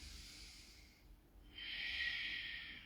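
A long, steady breath drawn in during a yoga session, soft and close, rising into a smooth airy rush that holds for over a second without any talking.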